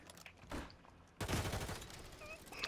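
Video game gunfire cracks out in a couple of sharp bursts, with a dense, loud volley kicking in about halfway through and rattling on steadily to the end.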